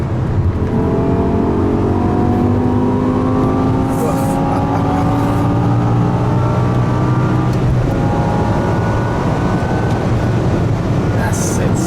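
An 800 hp G-Power BMW M5 with a supercharged V10 (Hurricane RR) pulls hard on the German autobahn, heard from inside the car as a loud, steady engine drone with rising harmonic tones climbing through the gears for the full length.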